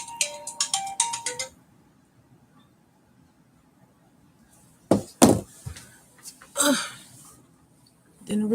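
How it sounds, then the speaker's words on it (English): A work phone's ringtone chimes loudly in a quick series of electronic tones for about a second and a half, followed by near silence, then a person speaking briefly in a quiet room. "Didn't realize I left my work phone on."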